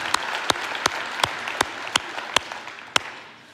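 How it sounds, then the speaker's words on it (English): Sparse, distinct claps ring out from a small audience at an indoor summit keynote, roughly one every half second, fairly close and fading toward the end. "let's give a round of applause to the most courageous First Lady in America, right here. Catherine Helgas Burgum."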